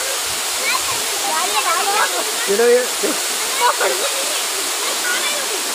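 Waterfall roaring as a steady broadband wash, with several people talking over it nearby.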